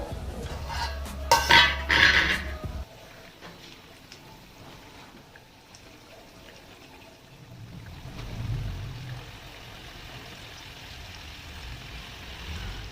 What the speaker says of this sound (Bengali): ঢাকনাটা খুলবো।